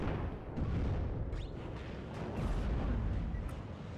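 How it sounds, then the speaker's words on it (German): Artillery firing in the WARNO strategy video game: a heavy, rolling low rumble of distant guns booming continuously, dense and thundering with occasional sharper cracks layered on top. "Artillerie müsste jetzt eigentlich gleich anfangen mit Schießen"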